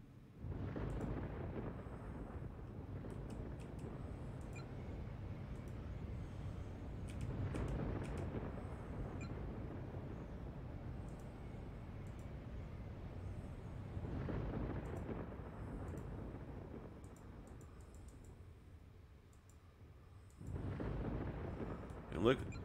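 Beam weapons firing and striking targets in MechWarrior Online, heard as deep rumbling surges that swell and fade in roughly periodic waves, with a sharp burst near the end.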